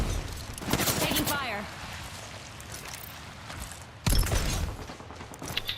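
Bursts of gunfire fill a Red Dead Redemption 2 game, with sharp rapid shots near the start and again near the end, and speech heard over the shooting.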